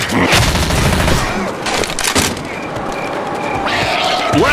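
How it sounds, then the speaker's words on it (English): A machine gun fires in Left 4 Dead online play, with dense, loud bursts of gunfire amid game sounds and a brief voice. "Grabbing a machine gun."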